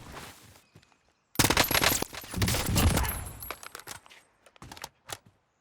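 An AN94 rifle fires in Warzone with rapid, close bursts of automatic gunfire, a long dense volley in the middle followed by a few shorter bursts, with short gaps between them.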